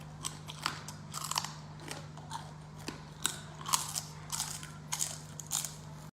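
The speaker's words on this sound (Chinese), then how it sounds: "口感嘎嘣脆" A large rainforest scorpion is bitten and chewed up close, giving a run of sharp, brittle crunches in an uneven rhythm over a low steady hum, with no talking.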